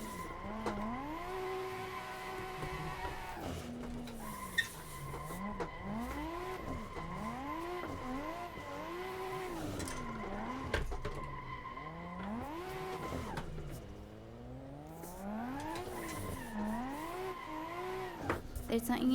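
A car drifts in Assetto Corsa, tires squealing in long rising and falling sweeps over a revving engine, repeated slides across the whole stretch, loud and continuous.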